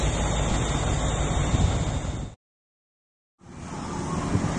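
Wind and surf along the Malecón beach at Puerto Plata, a loud, dense roar of waves and wind buffeting the microphone, cut off by a sudden second of silence before the roar returns.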